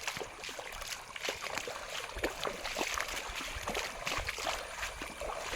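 Cold water running down from the hills in a mountain stream near a village, a steady broadband rush with scattered splashy bursts, fairly close and continuous with no voices.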